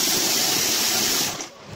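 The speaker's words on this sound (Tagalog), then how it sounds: "Ito po yung tubig." Strong, hissing spray of water gushing from a shower in a resort bathroom, steady and close, then cut off abruptly near the end.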